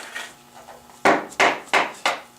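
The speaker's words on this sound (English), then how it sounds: "tap it in with the hammer" A hammer taps a tapered punch into a ski, four sharp, evenly spaced strikes ringing out close and loud after a quieter start.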